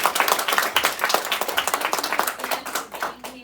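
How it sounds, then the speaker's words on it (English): Audience applause for a second grade class at a school biography presentation, a dense, steady patter of many hands clapping close by, fading slightly near the end. "Let's give them another round of applause."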